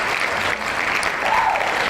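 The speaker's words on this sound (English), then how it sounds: "Well, we've got the applause." Steady applause from an audience on a comedy talk show, dense and continuous at a constant level with a faint whoop rising near the end.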